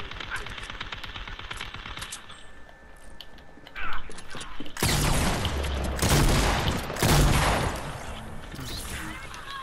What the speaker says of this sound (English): Stupid bomb.